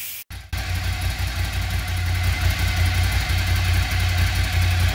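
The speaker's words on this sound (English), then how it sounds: "Let's put on the dyno, see what she makes." A Ducati M659 motorcycle runs on a dyno: after a brief gap its engine settles into a loud, steady, throbbing run close by that holds to the end, with no voices.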